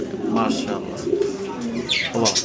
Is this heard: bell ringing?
no